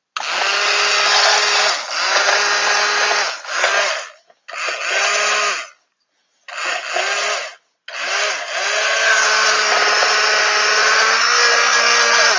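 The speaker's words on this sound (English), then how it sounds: "I'm going to definitely stick blend this" A stick blender whirs loudly in soap batter, running in long bursts broken by a few short pauses as it is switched off and on again.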